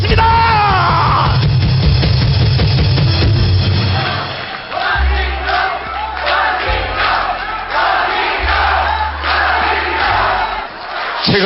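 A crowd roars with cheers and shouts during a standing ovation for minister Won Hee-ryong, loud and sustained over a thumping low musical backing.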